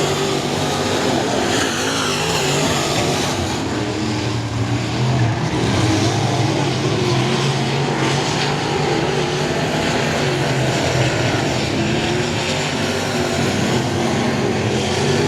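IMCA modified race cars at a dirt speedway make a dense, constant engine roar with layered revving and droning from several cars at once, loud and close throughout, with no voices.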